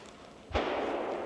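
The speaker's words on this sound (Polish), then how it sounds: "Strzał trafiony." A single sharp hunting rifle shot cracks out from a distance during a wild boar and deer hunt in Ślęża Sobótka, followed by a rolling echo that lingers over quiet outdoor background.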